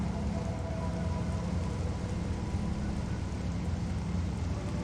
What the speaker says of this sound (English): The rain effects completely updated so that everything flows naturally across the arm cannon